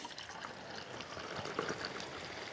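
Hot black coffee pours into a preheated container outdoors on a mountain, a soft continuous trickling stream, fairly quiet and alone.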